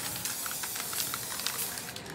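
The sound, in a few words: spray paint can spraying plastic cabinet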